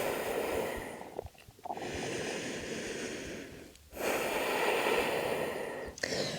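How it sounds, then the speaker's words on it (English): Heavy, rhythmic breathing after a set of yoga push-ups, close and fairly loud, with long broadband inhales and exhales separated by brief pauses. "Take a few breaths to recover."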